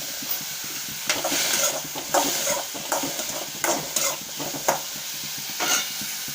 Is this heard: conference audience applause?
no